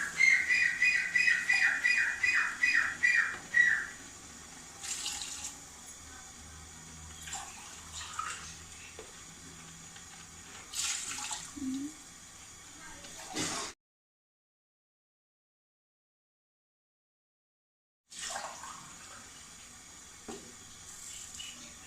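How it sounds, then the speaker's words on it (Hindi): Water is poured in repeated splashy bursts from a steel glass into a pot for vegetable pulao, close by, with a shrill whistling tone early on and a long silent gap before the pouring resumes. "हमने पानी ऐड करना है इसके अंदर"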